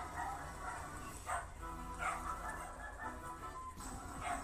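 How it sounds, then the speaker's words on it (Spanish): Dogs barking in Pokémon Black 2, short yelping bursts recurring every second or so over a dense, steady game soundtrack. "Y otra vez los perros que ladran."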